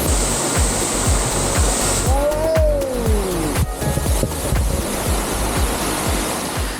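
A waterfall at Mae Kampong in rural northern Thailand roars in a steady, loud wash of rushing water, with a few brief squeaky sounds rising above it midway.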